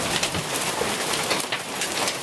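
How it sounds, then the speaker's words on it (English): Hail pelts down steadily during a thunderstorm, a dense hiss of many small impacts with scattered sharper clicks, close and fairly loud, with no voices or thunder. "That's hail, guys."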